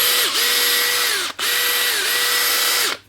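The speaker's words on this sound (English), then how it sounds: "Another Makita with the brushless 485 running." A Makita brushless cordless drill (485 model) whirs steadily at close range for about three seconds, with one brief dip in speed partway through before it winds down at the end.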